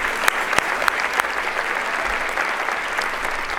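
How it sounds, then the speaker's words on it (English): An audience at an indoor charity gala awards event claps steadily, a dense sustained round of applause with scattered sharper claps throughout. "Can we give her one more round of applause?"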